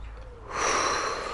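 A person draws one deep, audible breath in, rising after a quiet start and holding steady and close until the end, with no words.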